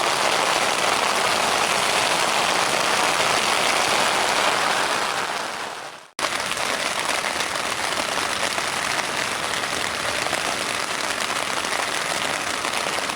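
Rain falls on a tent in a dense, constant patter, loud and close, cutting out for an instant midway before resuming just as steadily.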